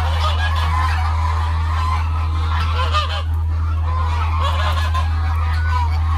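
Chinese geese on a farm in Nigeria honk repeatedly in a loud, overlapping chorus close by, over a steady low hum.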